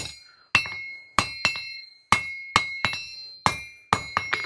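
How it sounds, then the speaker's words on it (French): Hammer forging a hot steel knife blade for a survival tool: sharp metallic ringing strikes close by, about ten blows in an uneven rhythm with brief pauses, each ringing out briefly. "la mise en forme au marteau, c'est ce qu'il y a de plus rapide"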